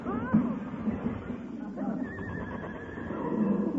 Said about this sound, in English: a runaway horse in this day and age